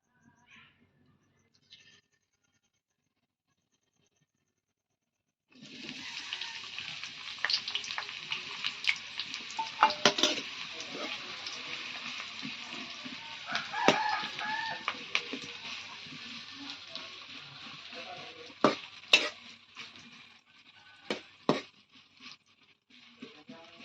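Mutton masala fries in oil and is stirred hard: a quiet start, then a sudden, steady sizzle with repeated sharp scrapes and knocks of the spoon against the pan.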